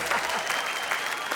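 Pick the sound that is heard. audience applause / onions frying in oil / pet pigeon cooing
audience applause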